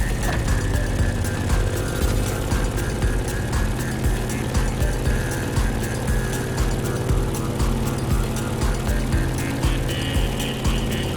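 A steady, loud droning propeller engine hum from an airplane in the video game The Crew Motorfest, with a constant pulsing rhythm, continuous throughout without pauses.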